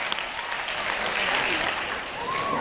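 An audience at a John Green event at the Carnegie Library claps and cheers, a dense, even wash of applause with voices mixed in, held at full level from start to finish.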